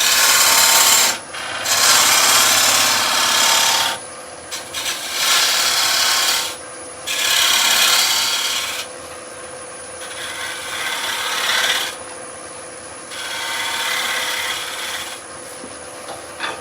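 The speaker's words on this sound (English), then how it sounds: "My trusty skew again, just to give it a little tweak." A skew chisel works a spinning piece of wood on a lathe, making a series of close, loud, raspy scraping passes in rhythmic bursts of two or three seconds, separated by short pauses, with no talk.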